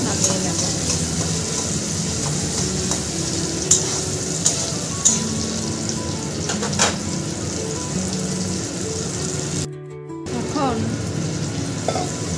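Vegetables frying lightly in a pan, a continuous close sizzle broken by sharp spatula taps and stirring scrapes, with a brief spoken word near the start and a short dip near the end.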